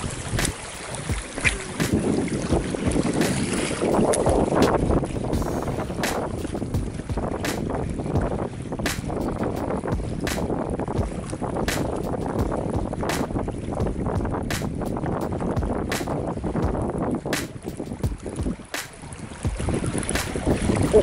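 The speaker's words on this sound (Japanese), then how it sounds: "風が弱まった。" Wind gusting steadily beside a flooded, swollen river during bass fishing, a broadband rushing roar with buffeting against the microphone and faint water movement, continuous throughout with no talk.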